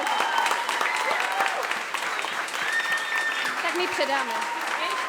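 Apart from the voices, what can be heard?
audience applause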